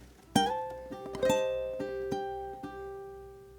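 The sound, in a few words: ukulele playing next bar of a song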